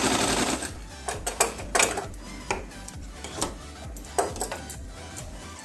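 A sewing machine stitching a blouse seam runs in short bursts, its rapid needle clatter rising and falling with pauses between runs, close and moderately loud.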